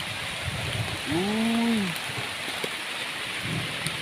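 Steady rain hiss by a forest stream fills the clip, with a brief tonal call or voice-like sound rising and falling in the middle.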